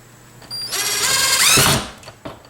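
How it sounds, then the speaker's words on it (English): A power drill whines for about a second as it drives a screw into a wall near an outlet. The sound is close and loud, rises in pitch, then stops, followed by a faint knock. "I'm just going to screw that in and see if it works."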